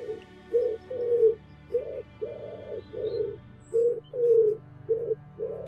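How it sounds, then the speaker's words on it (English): Pigeons coo in a steady series of about ten soft, rounded calls with short pauses between them, close by over a quiet low background hum, with no talking. "even feeding the pigeons."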